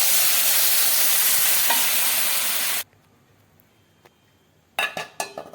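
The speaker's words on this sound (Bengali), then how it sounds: "ভাজা করা ব্রকলি, আলু, সয়াবিন দিয়ে দিলাম। সবটি একটু নেড়ে চেড়ে নিব।" Broccoli, potato and soybean chunks in a pan: a loud, dense sizzle for the first few seconds cuts to near silence, then a few sharp clanks and scrapes of stirring follow; no voices.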